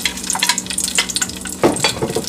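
Garlic sizzles and crackles in hot oil in a pan for a mussels-with-tomatoes dish, a steady close frying hiss with a fresh burst of sizzle partway through, no voices.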